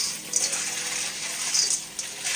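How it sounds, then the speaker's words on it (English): Black-eyed peas being rinsed under running water, a steady hissing gush of tap water pouring over the beans with small splashy surges, close and alone with no talking. "I'm going to rinse them"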